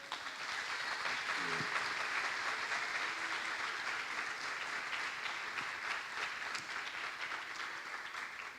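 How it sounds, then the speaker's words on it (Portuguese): A church congregation gives a long, warm round of applause. The clapping is a steady, fairly faint and distant wash that holds evenly throughout, with a faint voice now and then beneath it. "uma forte e calorosa salva de palmas"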